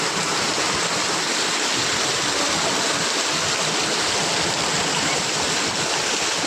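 Heavy rain with floodwater flowing through homes in Dholka, a loud continuous broadband rush of water filling the whole scene without pause.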